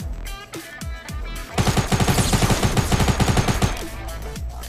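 Rapid bursts of small pistol fire in a video game, a quick run of sharp shots over about two seconds, with scattered single shots before and after, loud and close.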